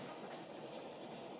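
A train rolls steadily along the rails with a dense, continuous rumbling clatter, heard from inside or close by.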